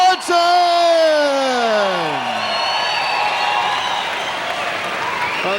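An arena crowd at a women's boxing match cheers loudly for a fighter during her ring introduction. A sustained roar of applause and whoops follows a long, falling announcer-style call.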